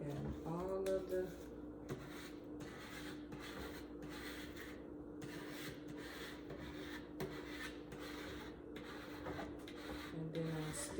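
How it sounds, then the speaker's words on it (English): A squeegee scrapes repeatedly across rhinestone template paper in a steady run of rasping strokes, close and fairly quiet, over a constant low background hum. "I still go through with the squeegee and scrape the template paper"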